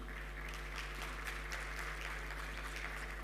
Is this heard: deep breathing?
no